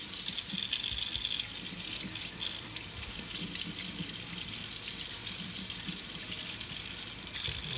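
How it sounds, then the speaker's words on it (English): Potatoes are scrubbed under a running kitchen tap, a steady rush of water into the sink with light rubbing and splashing throughout, fairly close and without speech. "Just scrub them nice under water just to get the raw dirt off of them."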